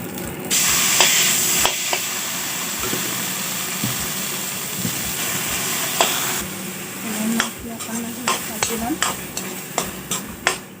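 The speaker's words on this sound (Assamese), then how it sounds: "এতিয়া মই ৰঙালাওখিনি যিখিনি সিজাই লৈছিলোঁ সেইখিনি ইয়াতে দি ল'ম।" Boiled raw pumpkin goes into a pan with cashew nuts that have browned in oil, followed by a loud sizzle and repeated scraping stirs of a spoon against the pan, close up.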